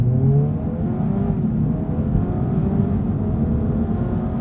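Engine of a Honda Prelude pulling under hard acceleration, a steady droning note rising gradually in pitch, heard from inside the cabin, loud and continuous with no talk.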